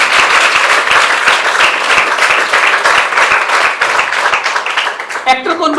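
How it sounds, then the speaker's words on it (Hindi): A teen audience at a youth empowerment event bursts into loud, dense applause, a continuous crowd of clapping hands with a brief voice near the end. "इसके लिए भी ताली एक बार दोबारा बजा दो।"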